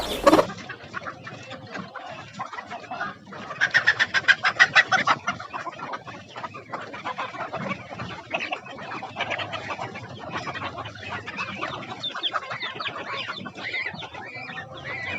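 Free-range hens in a poultry shed, some sitting on eggs, clucking steadily with layered calls from several birds and a burst of louder cackling near the start.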